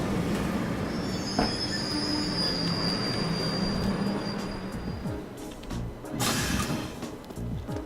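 A train pulls into an RER station in the video game Trails of Cold Steel, its wheels squealing in long high tones over a loud rumbling roll that eases off and then surges again, with no voices.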